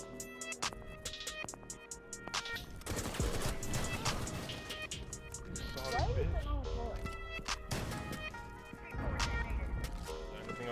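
Gunfire in the tactical shooter Rainbow Six Siege, dense bursts and sharp cracks scattered through the stretch, some loud and close, mixed with impacts and game noise while players talk over it.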